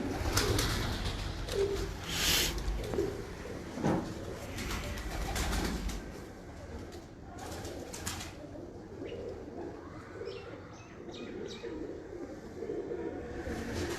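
Breeder pigeons on a rooftop in Kasur, cooing softly amid outdoor ambience, with a few wing flutters and distant background rumble running throughout.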